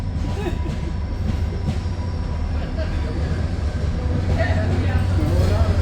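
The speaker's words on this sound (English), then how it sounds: "hey look, there's a train." A train rumbles past nearby with a steady low rolling roar and faint wheel squeal, continuous for several seconds under light background noise.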